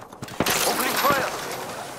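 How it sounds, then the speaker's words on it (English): Rapid gunfire in the video game Apex Legends, played on an RTX 3090, crackles in a short loud burst with a sharp metallic ring, while a character voice talks over it. "Opening fire."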